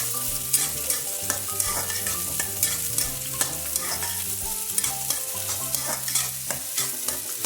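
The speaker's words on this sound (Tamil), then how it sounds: "2 வெங்காயம் போட்டு கோல்டன் ப்ரௌன் ஆகிற வரைக்கும் வதக்கணும்" Two large onions for a mutton biryani sauté in oil, a steady sizzle broken by regular scraping and clinking strokes of a spoon against the pan, close and clear.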